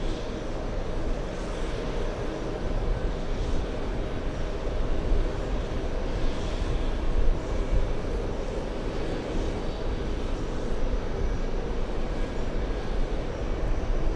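An airplane taxis at an airport, its jet engine producing a steady, broad, continuous roar that holds at a moderate distance with no talking.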